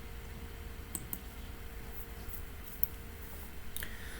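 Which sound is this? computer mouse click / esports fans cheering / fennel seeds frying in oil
computer mouse click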